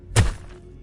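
A single heavy thud of a body thrown against a wall, one short dull impact with a faint ringing tail in a quiet room.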